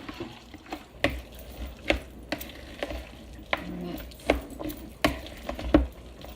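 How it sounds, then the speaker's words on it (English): A spoon stirring a vegan chickpea salad seasoned with onion powder in a bowl, giving soft, irregular scraping and mushy clicks close up, repeated in short strokes. "And then you'll just stir that all over again."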